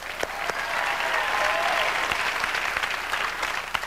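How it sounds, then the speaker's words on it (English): A studio audience at a late-night television comedy taping breaks into sustained applause, dense and steady clapping with a few cheers, holding at full strength for several seconds before easing slightly. "let's give a round of applause"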